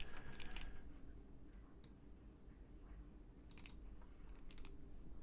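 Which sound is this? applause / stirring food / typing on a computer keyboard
typing on a computer keyboard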